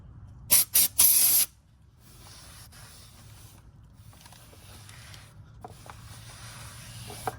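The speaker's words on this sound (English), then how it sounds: "Some degreaser as well." Aerosol degreaser sprayed from a can onto BMW E46 clutch parts, three short loud hissing bursts close by, followed by quiet shuffling handling noise.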